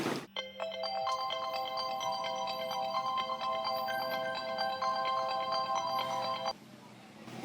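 A mobile phone rings with a bright melodic ringtone that loops continuously for several seconds, close and clear, over low background hum and a faint voice before it cuts off.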